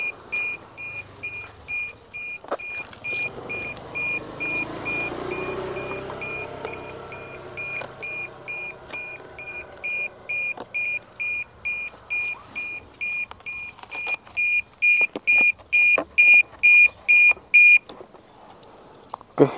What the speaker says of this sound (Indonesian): suara alarmnya sangat berisik.